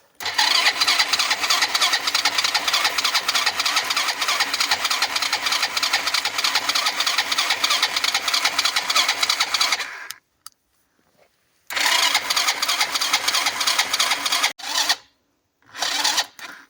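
Yamaha Jog scooter in freezing cold with a weak battery: loud, close starter cranking runs steadily for about ten seconds, stops, then returns in two shorter cranking bursts separated by silence.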